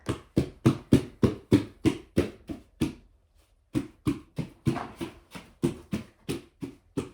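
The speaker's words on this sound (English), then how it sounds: "stomping my feet, clapping my hands, anything that would cause him to get up" Feet stomping and hands clapping to distract a dog during obedience training, a run of sharp, loud, evenly spaced claps and thumps, a brief gap, then another rapid burst of the same percussive hits.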